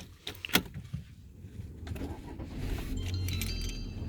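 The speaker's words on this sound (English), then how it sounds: "So what I want to do is now just start the car fully." Car brake booster test: a few clicks and thumps in the cabin, then the engine cranks and catches, settling into a steady idle rumble that grows slightly louder.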